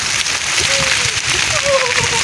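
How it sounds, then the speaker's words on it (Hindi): Rain falls outside a house in a steady, loud hiss with splashing, and faint voices sound indistinctly beneath it. "बाहर की बारिश चेक करानी है मैंने।"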